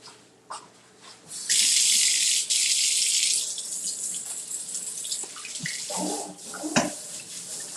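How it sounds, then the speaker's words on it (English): Hands being washed under a running sink tap, a loud steady gush of water that starts after a second and then eases into softer splashing and clattering near the sink. "So let me wash my hands."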